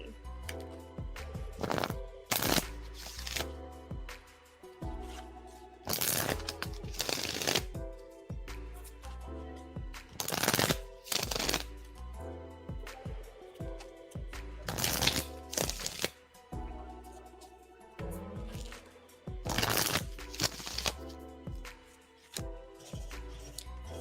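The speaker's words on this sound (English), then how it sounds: "let me just go ahead and shuffle for him really quickly" Tarot cards being shuffled by hand during a live reading, a long run of crisp riffling and slapping bursts in quick repeated rounds, close and fairly loud, with no talk over them.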